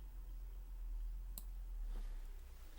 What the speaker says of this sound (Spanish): Cerramos. Un clic.